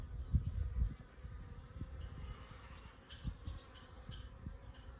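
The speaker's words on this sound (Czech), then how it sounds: "Ještě ukážu ty včelí miminka, jak teďka poznávají okolí." Young honeybees fly around the entrance of a buckfast hive in May, with a faint, steady buzzing over low outdoor rumble and no talk.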